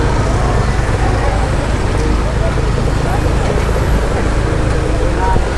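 Steady night road traffic in Legian, Bali, with tourists' cars, a continuous broadband roar of passing vehicles that holds an even level throughout, and voices faintly mixed into the din.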